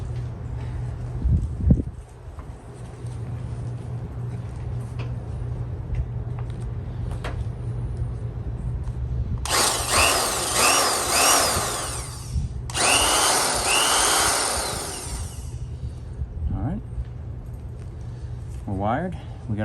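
A SKIL Model 598 power drill, freshly greased, is run in short bursts, with two long loud whirring spells in the middle amid workshop clatter and steady background hum.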